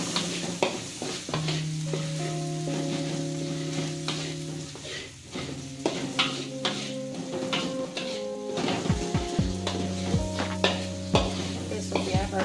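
Sliced tomatoes being stir-fried with blended, already-cooked spice paste in a pan, giving a steady close sizzle with repeated scraping and stirring clinks of a utensil against the pan, with no talking.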